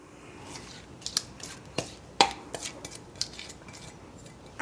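A broccoli salad being stirred in a bowl before the dressing goes in, giving scattered light clinks and scrapes of a utensil against the dish at irregular intervals, fairly quiet with no talk.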